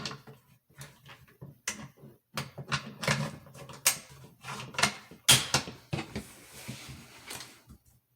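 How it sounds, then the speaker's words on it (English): A Savage Axis bolt-action rifle in .308 has its bolt worked and pulled out, giving a run of close, sharp metallic clicks and slides with uneven spacing and no talking. "pull the trigger, and pull out the bolt"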